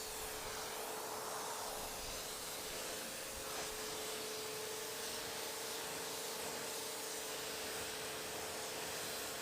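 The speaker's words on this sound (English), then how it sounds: "Let's give it a rinse and see." A washed car with a hydrophobic coating is rinsed with a water spray, giving a steady broadband hiss that runs unbroken throughout at a moderate distance.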